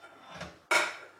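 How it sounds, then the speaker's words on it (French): Dishes and cutlery clatter in a kitchen: a soft clink, then a sharp, loud crash of plates and utensils that rings and fades, close by. "Je disais avant d'être coupé par de la vaisselle"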